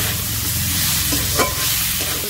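A loud, continuous sizzle fills a pan as water, turmeric and chopped tomato go in, with a few short stirring scrapes over the steady hiss.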